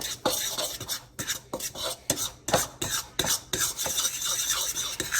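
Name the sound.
mixing dry cake ingredients with a fork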